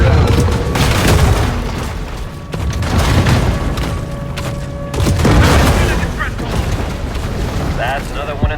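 Heavy gunfire and explosions in the Maneater video game: loud, repeated booms and blasts roll over one another in a dense, continuous barrage, with a voice occasionally talking over the noise.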